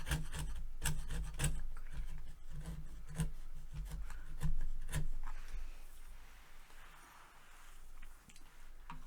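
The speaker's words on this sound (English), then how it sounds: "Alright, so I've been carving on this for a little while now." A chisel carves a wooden wedge for the neck reset of a Guild D40 guitar, giving a quick series of close scraping, rasping strokes with sharp clicks, then softer, slower shaving sounds after a short pause.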